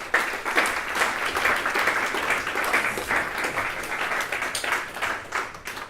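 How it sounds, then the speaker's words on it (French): Audience at a video game sociology conference applauding steadily, a full, even roll of many hands clapping at moderate distance, without a break for the whole stretch. "je vous remercie de les applaudir"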